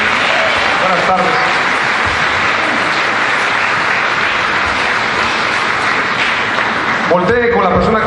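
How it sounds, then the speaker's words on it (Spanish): A church congregation at an evangelical gathering gives loud, sustained applause, a thick roar of clapping that holds steady throughout, with a brief burst of other crowd noise near the end. "Denle un fuerte aplauso a nuestro Señor Jesús"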